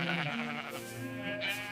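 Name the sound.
sheep bleating in an enclosure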